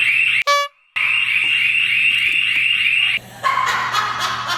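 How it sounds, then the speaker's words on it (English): A building alarm system sounds loudly and continuously in a home, a harsh pulsing electronic tone that briefly cuts out and resumes, then shifts to a different warbling pattern. "And you set the alarm off."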